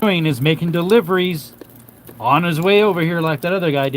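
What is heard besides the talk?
No distinct noise like a dog, phone or traffic.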